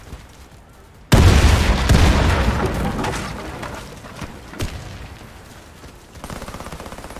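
A grenade blows up in a ranked bomb-round video game match: a sudden loud, close blast with a heavy rumbling tail that slowly fades, followed by another softer thud.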